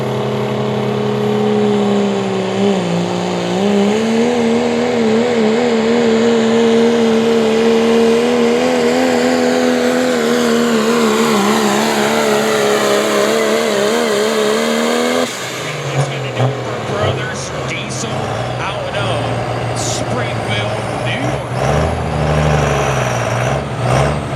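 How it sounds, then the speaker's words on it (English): A diesel pulling truck thunders down the track at an OSTPA truck and tractor pull at Dragway 42 in West Salem, Ohio: a loud sustained engine roar with rising pitch, then crowd and track noise, and an announcer talking over it. "Here comes Brothers Diesel, Joe, and his brother Dominic doing the driving"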